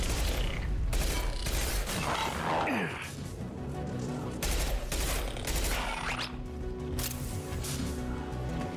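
Dense video game gunfire crackles in bursts with mechanical clanks and crashes, a continuous loud battle mix with shots overlapping throughout.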